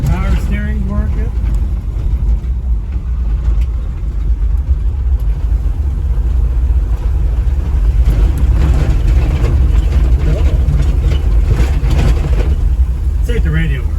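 Steady low engine drone and road rumble from an International Scout II being driven on the road after twenty years parked, heard from inside the cab, with a person talking over it.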